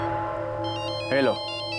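A mobile phone rings with a repeating electronic ringtone over steady background music, with a brief voice rising in the middle.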